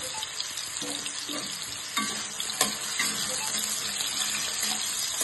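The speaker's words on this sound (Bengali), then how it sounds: "আলুটা একটু ভাজা ভাজা হচ্ছে" Potatoes frying in a pan for a Bengali jackfruit curry, a steady close sizzle with occasional stirring clicks and scrapes and no talk.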